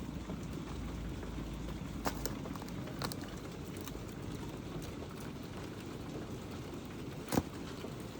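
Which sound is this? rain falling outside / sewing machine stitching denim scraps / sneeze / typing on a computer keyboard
rain falling outside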